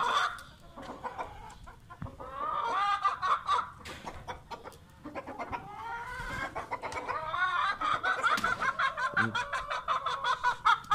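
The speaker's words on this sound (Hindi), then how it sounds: "मुर्गियाँ काफ़ी ज़्यादा बोल रही हैं" Several hens cluck and cackle continuously, overlapping in a busy, close chorus with sharp rhythmic calls.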